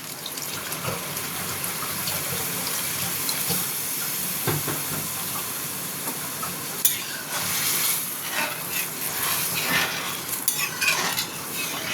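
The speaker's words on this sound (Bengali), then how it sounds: "এটাতে আমি একটু জল দেব, এটা একটু পাতলা হয়।" Water is poured steadily into a pot of sambar, a continuous splashing pour with light stirring and utensil clinks near at hand, no voices.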